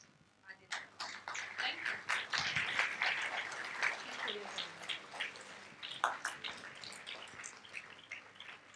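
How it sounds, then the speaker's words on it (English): Audience applause for a small child at a Class 3 school forum, a dense patter of many hands clapping steadily for several seconds in a hall. "Let us clap for him"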